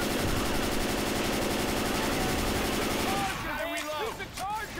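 Rapid automatic gunfire in the zombie shooter Left 4 Dead 2, a dense continuous rattle of shots that cuts off partway while voices talk over it.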